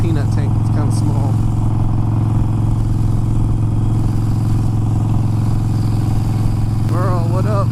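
A motorcycle engine drones steadily throughout, loud and continuous, with a brief shift in pitch near the end.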